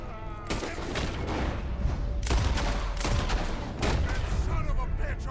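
Gunfire in Red Dead Redemption 2 during a frantic shootout, overlapping shots and bursts cracking across a steady roar of battle noise and commotion.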